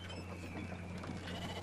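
Sheep in the video game Brothers: A Tale of Two Sons give faint bleats over a steady ambient game hum and low drone.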